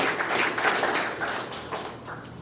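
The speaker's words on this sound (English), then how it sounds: "obligatory applause. I really appreciate it." Audience applause at a FAM JAM charity event, a short burst of dense clapping from a crowd that swells and then fades, fairly loud and close, without speech over it.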